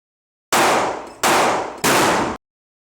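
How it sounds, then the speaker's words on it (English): Three loud, close gunshots ring out at a shooting range during warm-up shots, evenly spaced about two-thirds of a second apart, each trailing a short metallic ring before silence. "get some warm-up shots in, just get used and comfortable since it's been a while"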